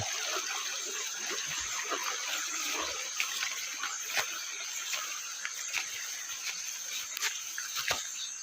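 Strong water gushing from a natural spring, a steady broadband rush with scattered splashes and faint clicks, heard at moderate distance with no talking.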